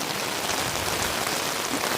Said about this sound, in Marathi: इकडे पाऊस आता जोरात असं पाऊस आलाय बघा